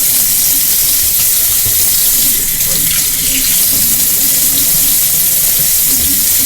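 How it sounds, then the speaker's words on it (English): A kitchen tap runs strongly and steadily as seasoning is rinsed off under the stream, with a loud, close, hissing splash throughout. "So I'm going to rinse some of the seasoning off."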